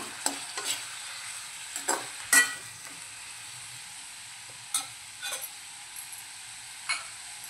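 Spoon scraping through Malvani-style green cashew chicken masala in a pan: a few scattered, short stirring scrapes separated by quiet gaps, with a faint low hiss underneath.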